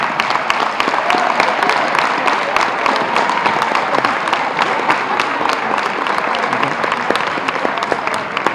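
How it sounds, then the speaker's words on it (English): A gym crowd at a high school girls basketball game applauds Hall of Fame inductees, loud sustained clapping and some cheering filling the hall without letup. "please give this first class a big round of applause"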